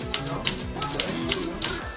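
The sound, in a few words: typewriter typing in a typewriter orchestra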